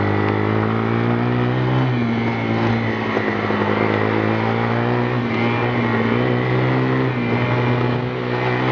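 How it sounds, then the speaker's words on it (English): A four-wheeler ATV engine running loud and close, held at steady high revs with small surges and dips throughout, its drone continuous and unbroken, with no talking. "So I'm gonna rev her up a little bit."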